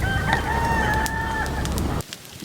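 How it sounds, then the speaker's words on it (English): A rooster crows loudly and close by, one long drawn-out call over a rumbling outdoor background, ending abruptly. "Even a rooster is getting excited."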